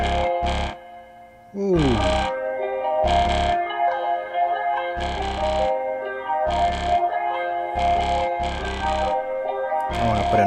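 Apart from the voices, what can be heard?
slight distortion effect on instrument track in BandLab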